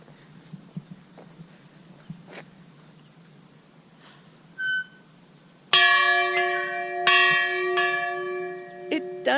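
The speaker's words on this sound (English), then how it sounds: "My husband wants to ring the bell." An old school bell at a park's school and town hall rings out after a quiet stretch, two or three loud clangs with long sustained ringing, close by.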